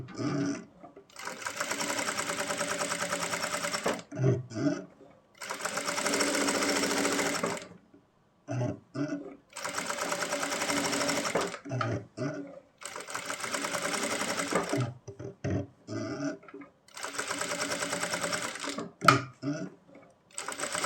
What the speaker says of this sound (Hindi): इस पैर पैर की सिलाई लगानी है।